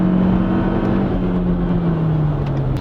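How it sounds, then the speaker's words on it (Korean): Renault Samsung XM3, a small SUV with a 1.3-litre downsized engine, accelerating at full throttle: a steady, loud engine drone with a slowly shifting tone, heard from inside the cabin, no talking. "지금 제가 가속 페달을 끝까지 밟았거든요"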